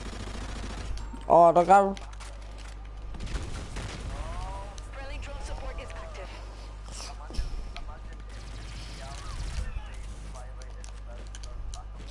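Video game gunfire rattles in short bursts of rapid shots, mixed with several players talking excitedly over a steady background hum.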